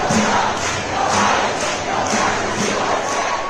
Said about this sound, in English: In Chicago, thousands of protesters turned out to demonstrate against immigration raids.